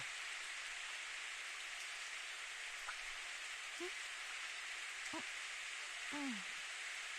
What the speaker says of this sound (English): 雨が降ってきてるぞ。